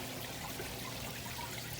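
Water slides and trickles over the rock face of a decorative water wall, a steady soft hiss of flowing water heard close and continuous.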